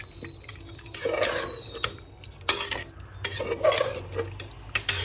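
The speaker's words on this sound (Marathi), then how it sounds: "ह्यात मी गरम पाणी ॲड केलेलं आहे छान परतून घेऊया" Spoon stirring chicken curry in a pressure cooker pot just after hot water is poured in, with repeated close scraping and clinking against the metal and a faint simmering wash underneath, no talking.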